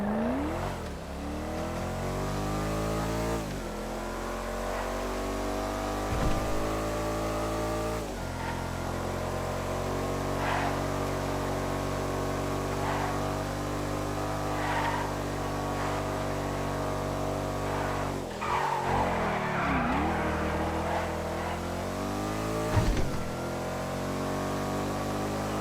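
A Baller SUV on a video game test drive, its engine droning and shifting pitch through acceleration and gear changes, a steady, close motor sound with no talk.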